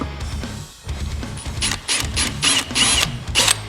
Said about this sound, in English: drill a hole where the strings come through.